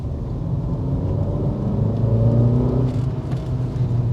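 A small car engine in a Seat Ibiza hums and rises steadily in pitch as it accelerates, heard from inside with a constant rumble and some wind noise from the window.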